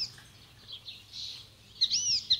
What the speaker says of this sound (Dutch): Dit is de spotvogel, ja, wist ik ook niet hoor.